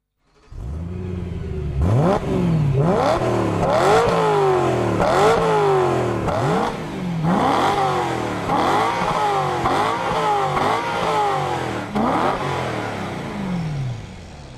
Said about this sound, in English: the BMW M3 is a high-revving machine which creates a unique sound